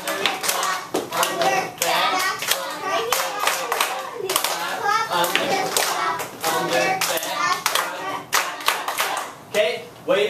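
Rhythmic hand clapping during a Mexican folk dance routine, sharp claps in uneven patterns close by, with a voice and other voices speaking over the claps throughout.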